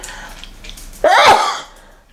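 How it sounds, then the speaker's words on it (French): A single sharp sneeze bursts out close by after a brief quiet moment, loud and explosive, then fades away. "Attention, je vais éternuer."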